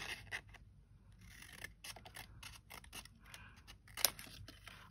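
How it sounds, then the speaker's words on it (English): Scissors cut a printed paper ingredient list out of a page, giving a series of quiet, crisp snips and rustles close by with gaps between cuts. "So I'm just going to cut that out."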